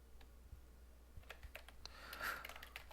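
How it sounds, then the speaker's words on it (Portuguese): Quiet clicking of fingers typing an email address on a computer keyboard, scattered irregular keystrokes close by, with a small burst of quicker taps near the end and no voices. "E agora aqui eu vou digitar"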